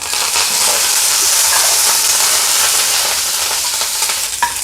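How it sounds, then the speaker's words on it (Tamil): Shallots and curry leaves sizzle in hot oil for a pea curry, a dense continuous frying hiss with faint stirring scrapes, close and steady throughout with no talking. "வெங்காயம் இந்த அளவுக்கு வதங்கி வரணும் இப்போ இது கூட கருவேப்பிலை சேர்த்துக்கலாம்"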